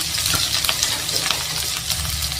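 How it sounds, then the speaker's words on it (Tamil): Chopped large onions sautéing in a pan for a wedding-style mushroom gravy, a steady close sizzle with brief stirring scrapes and clicks running throughout, no voice over it. "இது நல்லா வதக்கிடலாங்க வெங்காயம் கொஞ்சம் நல்லா வதங்கி வரட்டுங்க"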